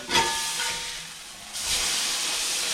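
A hamburger patty sizzles in a pan right after being flipped, giving a close, steady hiss that swells to a louder, brighter sizzle partway through.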